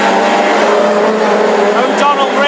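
Hot rod race cars roar around a track in Tipperary during the Irish Grand Prix championship final, a continuous engine drone beneath a commentator's excited talk.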